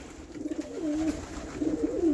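Pigeons coo softly in a loft, a low warbling call rising and falling twice in close succession, fairly near with faint background noise.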